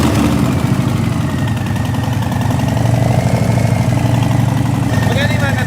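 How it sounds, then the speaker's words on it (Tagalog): Harley-Davidson big bike motorcycle engines idling nearby with a steady, throbbing low rumble throughout, with people talking over it. "Mga big bike eh. Harley Davidson oh."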